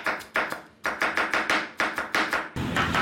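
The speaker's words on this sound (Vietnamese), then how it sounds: "Ớt chuông thì anh chị cắt nhuyễn lên như thế này dùm em, cắt hạt lựu nhuyễn ha" A knife finely dicing bell pepper on a cutting board, a series of sharp, close chopping knocks in quick irregular bursts, loud and alone.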